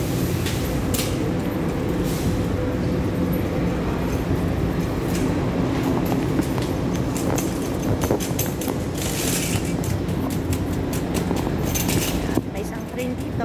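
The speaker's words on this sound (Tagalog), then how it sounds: "So yung isang train is paalis na." An MTR metro train pulls out of Wukaisha station in Hong Kong with a continuous rumbling roar, loud and steady on the platform, while a voice talks over it.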